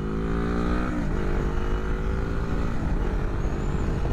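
Suzuki GS500E motorcycle pulling away in second gear, its engine note climbing steadily under heavy wind and road rumble, loud and close throughout.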